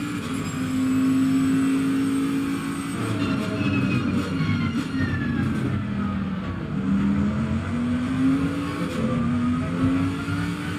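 A GT3 race car at Barcelona in Assetto Corsa Competizione accelerates hard, with a loud continuous engine note whose tone climbs and drops in pitch sweeps as the gears change. No voices are heard.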